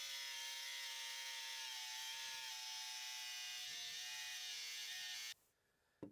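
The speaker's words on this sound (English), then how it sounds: "we'll go ahead and cut some rebar and see how they perform in that manner" A cordless cut-off tool whines at a high, steady pitch while cutting through rebar, grinding continuously up close for about five seconds before spinning down abruptly.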